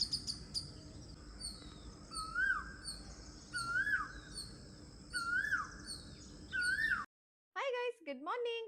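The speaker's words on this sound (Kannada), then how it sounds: "ಗೈಸ್ ಪಕ್ಷಿ ಕೂಗೋದು ಕೇಳಿಸ್ಕೊಳ್ಳಿ." Several birds call outdoors in the morning, with repeated rising and falling whistled notes over a steady background chorus and a soft hum of ambience, followed after a brief gap by a closer, louder call.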